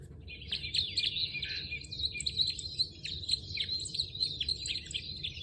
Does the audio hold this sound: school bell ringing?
no